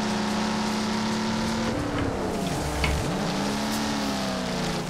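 Tyre skid and engine drone from a car under too much handbrake in the Wreckfest racing game, a steady loud roar with a sliding pitch dip midway through.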